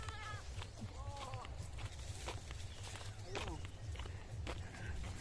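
A goat on an island woodland walk gives wavering bleats several times, close to moderately near, over footsteps and a low background rumble, with people talking nearby.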